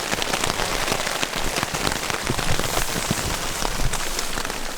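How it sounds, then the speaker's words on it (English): Heavy rain pours down on a Swedish forest campsite, a dense, steady hiss of drops drumming on surfaces close by, with no talking. "Man, it is so rainy."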